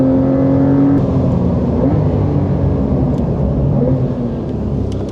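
A base Porsche Carrera on Michelin tyres accelerates hard, its engine a loud, steady, close roar with rising tone and a constant whir of tyre and road noise, no voices.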